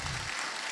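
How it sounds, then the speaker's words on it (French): Brief burst of dense applause from a church congregation, loud and continuous for under a second. "Est-ce qu'on peut l'acclamer?"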